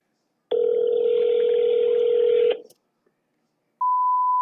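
A phone call to a dog's veterinary office: a loud, steady two-second dialing tone cuts off, a short silence follows, then a single clean beep tone begins.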